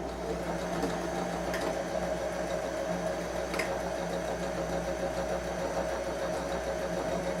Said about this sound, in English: Okay, so Anna, you can go ahead and sew our sides